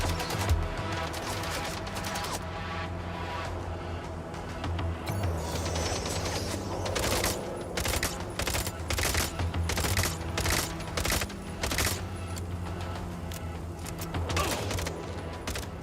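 Sustained video game gunfire in Minds Eye, with dense, overlapping bursts of shots that carry on through the whole stretch at a steady, loud level over a low rumbling background.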